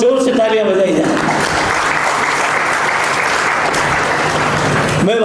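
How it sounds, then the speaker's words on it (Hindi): Loud audience applause at a district bar association golden jubilee ceremony, dense sustained clapping from a large crowd that rises after a voice on a loudspeaker and cuts off as speech resumes. "जोर से तालियां बजाई जाए"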